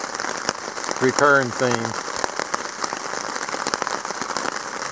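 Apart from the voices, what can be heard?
rain falling on a campsite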